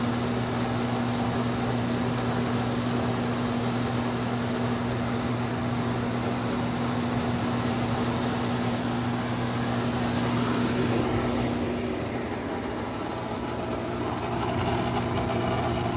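Steady mechanical hum of an appliance motor and fan running continuously, with a constant low tone and airy whir throughout, no voices.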